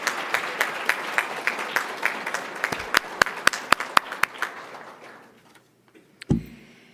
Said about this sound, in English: Let's have another round of applause for these wonderful recipients.